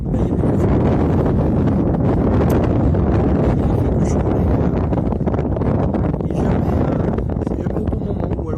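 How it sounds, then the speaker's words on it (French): Strong wind buffets the microphone at a boat anchorage, a continuous loud rumbling roar with gusty fluctuations throughout. "Il y a un peu de vent"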